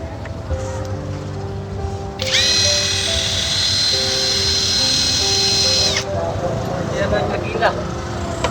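A cordless impact driver whines steadily for about four seconds, driving roofing screws at an outdoor work site, with people talking before and after the run.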